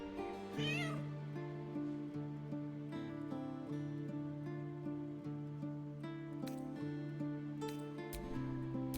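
A cat meows repeatedly over a steady, layered musical tone, with a high chirping sweep near the start; fairly quiet and continuous, in the video game Baldur's Gate 3.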